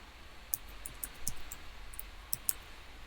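A computer mouse clicks several times in short, sharp, scattered taps against a quiet room hiss, fairly close and faint.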